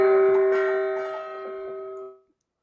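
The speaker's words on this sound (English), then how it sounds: "That's the Ding, gong ding, that ding." A single bright gong-like ding rings out with a strong sustained tone that slowly decays over about two seconds, then cuts off, heard alone with no talk.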